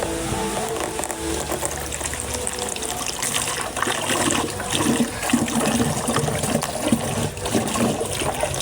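Water pours and trickles steadily into a homemade plastic chicken waterer, a continuous splashing gush lasting several seconds with no talk.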